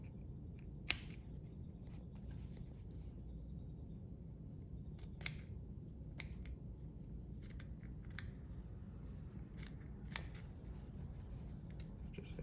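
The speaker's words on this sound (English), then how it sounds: "The next step will be to clip off any corners of your seam allowance that will get in the way of" Scissors clipping the corners off a waistband seam allowance: a handful of sharp, quiet snips spaced irregularly over a faint room hum, no voices.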